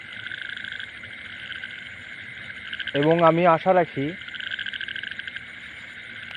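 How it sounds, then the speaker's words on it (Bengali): Frogs croak in a continuous night chorus with insects trilling alongside, while someone speaks briefly partway through, the calls continuing under and around his voice. "যে আমরা যে এখন ব্যাঙের ডাক পাচ্ছি"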